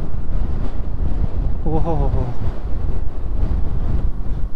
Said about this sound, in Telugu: లెఫ్ట్ నుంచి రైట్ కట్నే విండ్ దూసుకొస్తూ ఉంది